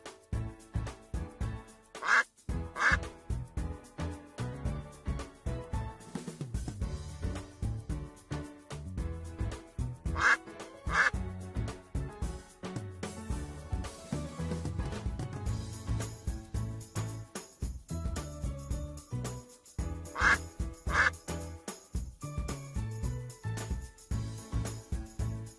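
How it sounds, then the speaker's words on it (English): A cartoon duck with a yellow beak and webbed feet quacks in short paired bursts at about 2, 10 and 20 seconds, set over continuous loud background music with no talk. "She likes to swim and quack."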